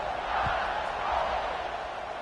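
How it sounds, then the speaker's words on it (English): A packed football stadium crowd buzzes with a continuous broad roar after a score, loud and sustained from start to finish, with a faint thump partway through. "this crowd is buzzing after that last score"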